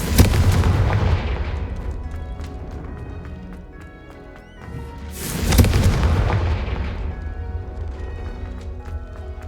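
A Confringo blast spell going off in the Hogwarts Legacy video game: two loud, booming explosions roughly four seconds apart, each a sharp burst that rolls off into a long, low rumble.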